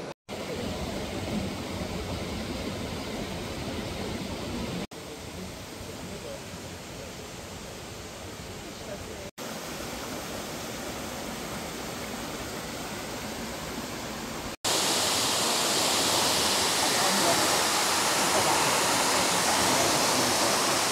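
Steady broadband rush of water flowing at a mountain spring on Madeira, loud and continuous with a few abrupt cuts where it shifts level, growing brighter and stronger near the end.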